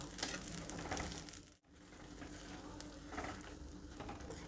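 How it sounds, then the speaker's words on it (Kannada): Onion, garlic, ginger and masala frying with vegetables in a pan over high flame, a steady close sizzle with stirring scrapes, broken by one brief gap. "ಈರುಳ್ಳಿ ಬೆಳ್ಳುಳ್ಳಿ ಶುಂಠಿ ಎಲ್ಲ ಸ್ವಲ್ಪ ಮಸಾಲೆನ ಗರಣೆನಲ್ಲಿ ಹುರಿತಾ ಇದ್ದೀನಿ"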